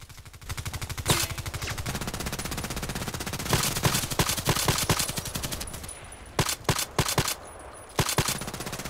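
Rapid machine gun bursts in the shooter game Contract Wars, loud and close, firing in long sustained rattling strings broken by a few short pauses and isolated single shots.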